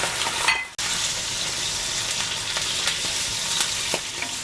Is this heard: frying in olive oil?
yes